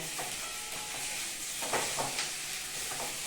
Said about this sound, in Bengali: একটু নেড়ে নিই।